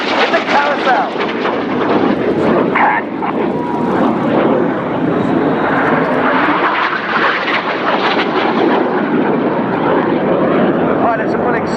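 Red Arrows jets in a flying display at RIAT 2015, a loud, continuous roar of jet engines filling the air, with commentary over it throughout.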